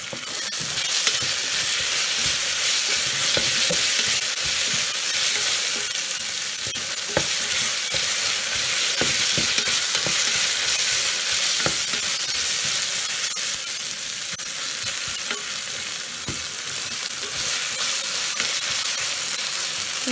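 Ginger garlic paste and caraway seeds fry in a pan for bagara rice, giving a steady, loud, close sizzle with occasional crackles and stirring scrapes throughout, with no talking.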